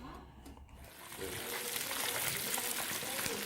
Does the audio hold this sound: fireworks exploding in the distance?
no